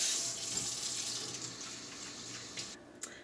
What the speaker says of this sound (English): first you need to get an ice tray and fill it up with water.